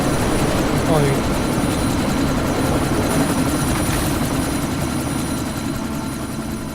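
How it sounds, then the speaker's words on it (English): A helicopter in the video game Deus Ex: Mankind Divided gives a steady low rotor and engine drone that runs throughout, loud and close, with faint game effects over it. "Miller, chopper's been grounded."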